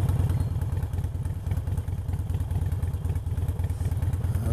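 A Harley-Davidson Sportster motorcycle rides off-road with a steady mid-pitched engine rumble and rhythmic mechanical clatter throughout, close and continuous, with no talking.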